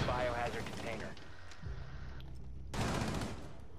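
Video game gunfire crackles in dense bursts, with a loud volley at the start, a steadier stretch of shooting through the middle and another loud burst near the end, while players talk over it.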